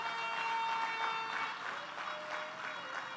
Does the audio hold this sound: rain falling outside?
no